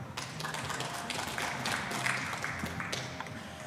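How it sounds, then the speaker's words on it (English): A light smattering of applause from a small audience at a UK Open pool quarter-final match, scattered claps held at a low, steady level for a few seconds with no talk over them. "The smattering of applause you heard"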